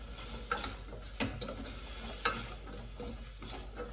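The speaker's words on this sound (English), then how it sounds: "Stir it around for a minute or so, literally just for flavours to get in there." Soup ingredients with lemon zest sizzle in a pan while being stirred, a soft steady frying hiss broken by several sharp scraping clicks of the spoon against the pan.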